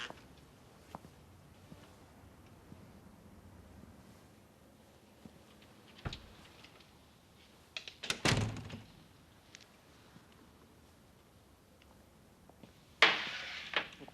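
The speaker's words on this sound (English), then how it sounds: "John, open the door." A door opens with a few scattered knocks and thunks, then a louder rattling clunk of the handle and frame, and a final sharp bang, all in a quiet room.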